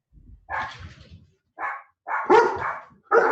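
Dogs bark from several nearby houses, a series of about four or five sharp barks in uneven bursts with brief gaps, loud and close, with no talking.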